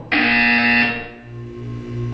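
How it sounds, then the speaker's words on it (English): A loud electronic buzzer from the Portal 2 video game sounds once, a harsh sustained tone that cuts off sharply after about a second and leaves a low hum underneath. "When you hear the buzzer, look down at the floor."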